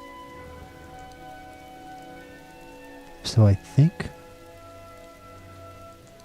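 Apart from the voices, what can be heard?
rain falling in the video game Skyrim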